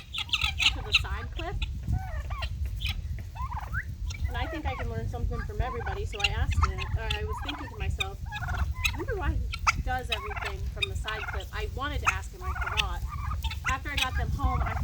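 A flock of turkeys gobbles and clucks constantly nearby while chasing a dog, overlapping calls in a busy, noisy chorus.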